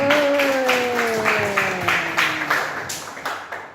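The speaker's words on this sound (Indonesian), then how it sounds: "Tepuk tangan buat kita semuanya." A small audience claps in a series of distinct, rhythmic claps, fairly close and growing sparser toward the end, with a faint tonal voice-like sweep under the opening.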